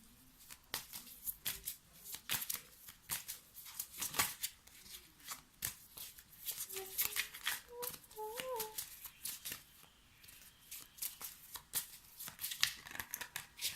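A deck of tarot cards being shuffled by hand, producing repeated crisp riffling and slapping bursts in an irregular rhythm, close and fairly faint, with a brief soft voice murmuring partway through.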